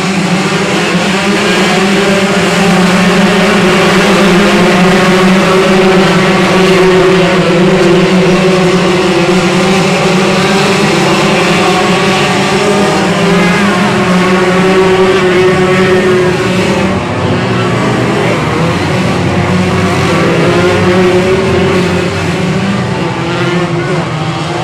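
125cc race cars circle a track at a short-track feature race, their engines blending into a loud, continuous buzzing drone that holds steady across the whole stretch with no break.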